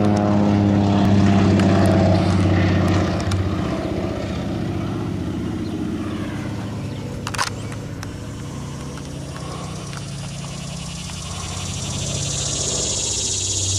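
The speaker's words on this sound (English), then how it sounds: "the crop duster starts flying by over your head, over your house" A crop duster airplane flies low over a house in Canton, Indiana, its propeller engine roaring loud and close at first, then fading into a steady drone that swells again toward the end.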